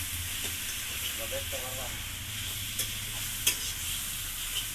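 Chicken fries in a pan with a continuous sizzling hiss, stirred with a few scraping clicks and taps, while a voice speaks briefly over the cooking.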